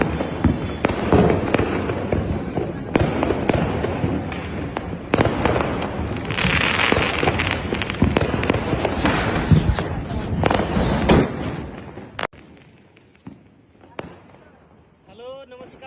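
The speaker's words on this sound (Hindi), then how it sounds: "आज हम लोग सारे बच्चे पार्टी के साथ मिलकर पटाखा जला रहे हैं" Diwali firecrackers burst in a rapid crackling barrage with sharp loud bangs, then the popping stops and a quieter stretch with faint voices follows.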